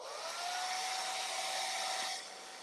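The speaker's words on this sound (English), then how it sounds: "So let's blow dry that." A hair dryer blows steadily to dry a layer of acrylic paint on a quilted cross door hanger, a loud continuous whirring hum with a faint whine that drops slightly in level near the end.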